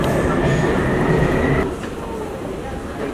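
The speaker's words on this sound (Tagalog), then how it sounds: "Dito kami sa organized na MRT." A metro train on Taiwan's MRT rumbles loudly from close by, and the roar drops noticeably partway through as it eases off, with a faint whine above the noise.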